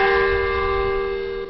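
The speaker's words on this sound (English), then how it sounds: "the church's bells do ring across the country" A church bell in Syria rings at Christmas, a single loud sustained toll with bright ringing overtones slowly fading, heard alone.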